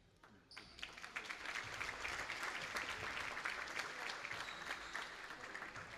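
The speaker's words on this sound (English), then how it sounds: "Crowd cheers as she gets up and walks back." Spectators in a gym at a Mountain View vs Saratoga girls basketball game break into loud, sustained cheering and applause after a brief quieter moment, filling the space steadily to the end.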